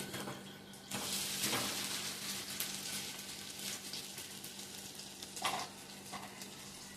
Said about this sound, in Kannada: ದಾವಣಗೆರೆ ಬೆಣ್ಣೆ ದೋಸೆ ಅದು ಮಾಡ್ತಿದ್ದೀನಿ